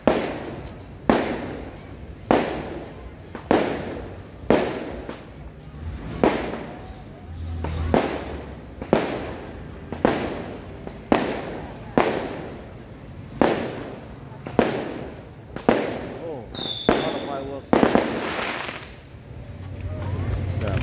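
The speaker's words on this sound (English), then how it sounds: "oh, we got fireworks on." Fireworks bursting over a night market at Patong Beach, Phuket, sharp loud booms repeating at a steady rhythm of about one per second, with crowd noise and a voice in between.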